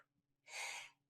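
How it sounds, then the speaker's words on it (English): A single sneeze from a person indoors, a sharp broadband burst lasting about half a second after a quiet pause, close and fairly loud, with no talk over it. "I'm going to sneeze"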